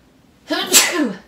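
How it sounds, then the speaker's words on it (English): A single close, loud human sneeze, a quick intake followed by a sharp burst, with no talk around it. "I'm about to sneeze."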